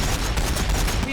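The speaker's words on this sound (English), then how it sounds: "We are taking fire." Rapid volley of gunfire from the Warhammer 40,000: Battlesector strategy video game, a dense crackling burst of shots lasting about a second at moderate loudness.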